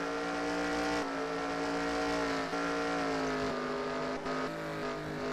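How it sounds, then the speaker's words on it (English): NASCAR Sprint Cup race cars roar around the Sonoma road course, a loud continuous engine drone with shifting pitch as cars brake and accelerate, with no voices. "So if Gord's waiting for this 95 car to slow down the 47, I don't see that happening"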